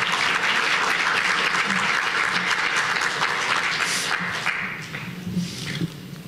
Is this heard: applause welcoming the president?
yes